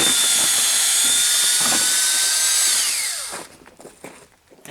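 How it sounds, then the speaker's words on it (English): A loud, steady whine of a drill boring a tap hole nearly 2 inches into a maple tree, pitch sliding down as it slows and stops, followed by quieter rustling. "I drill in not quite 2 inches."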